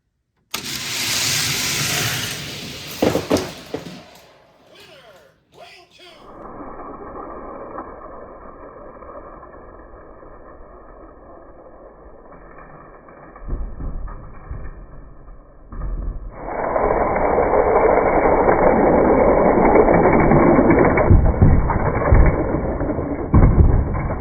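Hot Wheels and Matchbox die-cast cars, among them a '49 Volkswagen pickup, speed down a track; a low steady hum gives way to a loud, sustained rolling rumble that runs to the end.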